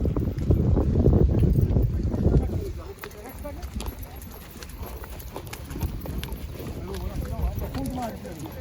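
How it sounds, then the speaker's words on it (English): Horse hooves clip-clop steadily during a ride in Mallorca, loud and close at first, then softer and rhythmic, with people talking over the hoofbeats. "that's me riding the horse"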